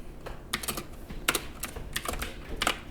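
Typing on a computer keyboard, with quick bursts of crisp key clicks in irregular clusters, close and clear, no voice.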